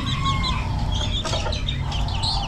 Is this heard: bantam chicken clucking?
yes